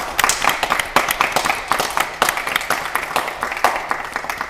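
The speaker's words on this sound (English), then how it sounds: "Give her a round of applause." A game-show studio audience gives a round of applause, a lively burst of close, rapid hand clapping that swells and dips but keeps going without speech.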